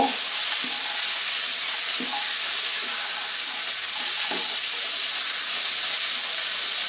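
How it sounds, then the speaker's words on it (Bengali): Green peas frying in a pan for a Punjabi dhaba-style matar masala give a steady, loud sizzle throughout, with occasional soft clicks of stirring and no talking. "প্রায় দেড় কাপের মতো মটরশুঁটি ছিলে রাখা ওগুলা দিয়ে দিব দিয়ে মিনিট খানেক এটা ভেজে নিব"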